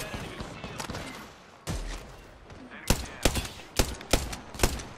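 Gunfire in the online battle game Apex Legends: a burst of rapid shots followed by a series of louder, punchy single shots in quick succession, with busy game ambience underneath.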